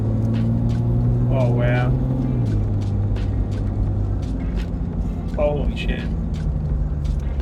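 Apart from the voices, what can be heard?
Toyota LandCruiser 100 Series engine accelerating on power tune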